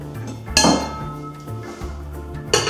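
Glass clinks twice, sharp and close, as a large wine glass is readied for sparkling wine on ice, with a steady low tonal hum running underneath.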